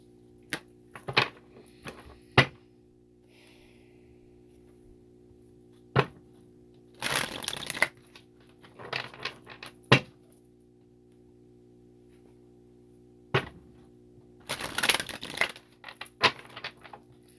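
Tarot cards being shuffled and drawn during a collective reading: sharp isolated snaps and short riffling bursts come in irregular clusters, close and fairly quiet, with pauses in between and a faint steady background hum.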